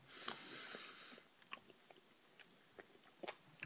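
Someone chews a watermelon Ring Pop gummy up close, with soft, irregular, sticky chewing and mouth sounds and a few louder bites at a quiet level.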